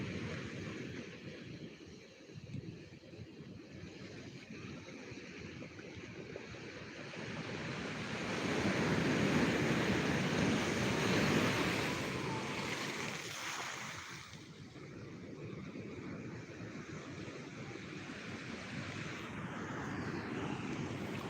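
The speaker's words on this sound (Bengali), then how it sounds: "জলপাড় দীঘা উত্তাল জলোচ্ছ্বাস ছিটকে আসছে আবার একটা আসছে" Stormy sea at Digha beach, rough waves surging and crashing in a continuous roaring wash that swells to a louder surge midway, heard alone with wind and no voices.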